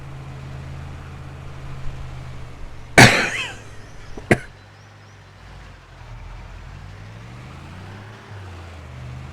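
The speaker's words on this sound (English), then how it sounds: "These coughing fits are going to drive me crazy." A person on a farm coughs sharply twice, a loud hack followed by a shorter one, over the low rumble of an idling truck engine, then the engine drone continues alone.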